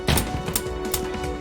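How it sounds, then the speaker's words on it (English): A single gunshot rings out in a hallway of the AWSW visual novel game, a sharp loud crack at the start followed by fainter echoing pops and a lingering ring. "A single gunshot resounded throughout the hallway"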